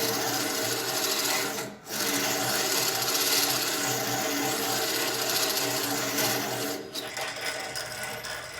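A vintage Speedo sharpener with a replacement stone grinds a new edge on a blade, giving a steady, loud rasping whir that runs continuously, dipping briefly twice, close up and with no voices.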